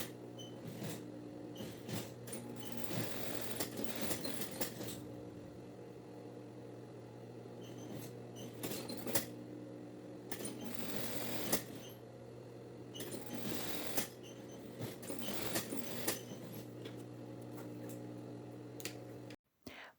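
A sewing machine hems a tricoline cuff folded half a centimetre inward. It runs in several short, rattling bursts with pauses between them over a low steady hum, fairly faint and close.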